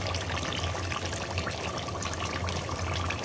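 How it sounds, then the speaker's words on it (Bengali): Potatoes added to a hot pan of spiced beef head meat and tongue, a dense, loud, steady hiss and crackle that runs on without break, close by. "যে আলু কষানো শেষ, এখন আলু দিয়ে দিচ্ছি।"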